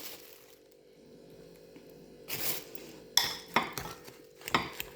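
Boiled eggs mashed with black pepper in a bowl, heard as a few soft, close scrapes and clinks of a utensil against the dish after a quiet start, with no talking.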